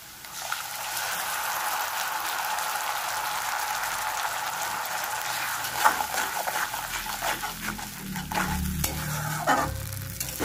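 Ginger, garlic and onion paste fries in a pan for a katla fish kalia, giving a steady close sizzle that turns busier toward the end with stirring scrapes and clatters.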